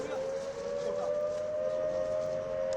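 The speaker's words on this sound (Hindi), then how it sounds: "आपको सायरन की आवाजें सुनाई दे रही हैं।" A long, steady air raid siren in Samba, India, during blackout wails at a constant pitch in the distance, with faint background noise and voices underneath.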